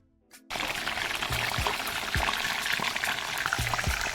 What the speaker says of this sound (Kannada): ಈ ರೀತಿಯ ಎಣ್ಣೆಯನ್ನು ಕಾಯಿಸ್ತಾ ಇದ್ದೇನೆ.